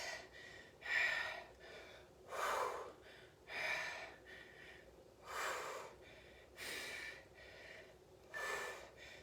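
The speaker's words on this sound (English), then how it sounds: "You're breathing as hard as you can" Heavy, forceful breathing during a HIIT workout, about seven loud rhythmic exhalations and gasps spaced roughly a second and a half apart, close and alone with faint background hiss.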